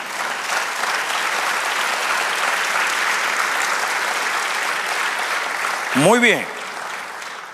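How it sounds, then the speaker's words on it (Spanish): A church congregation applauds at length during a sermon, a steady, full wash of clapping close by. Near the end a brief spoken word and a short sharp sound cut in before the applause drops back. "Dale aplauso al Señor."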